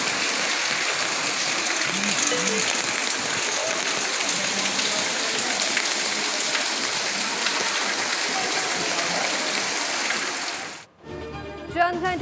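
Heavy rain pours steadily over Karachi, a dense continuous hiss of water on surfaces lasting several seconds before cutting off abruptly near the end.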